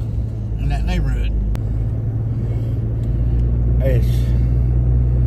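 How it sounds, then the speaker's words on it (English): Cars crawl through neighborhood traffic at night under a constant deep engine rumble, with short bursts of nearby speech rising over the drone twice. "That's a lot of cars in that neighborhood"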